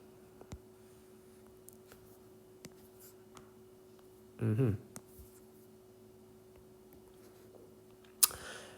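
A graph being drawn by hand for a calculus area problem, with faint scratchy pen or marker strokes, one louder burst of scribbling in the middle and a sharp click near the end, over quiet room tone.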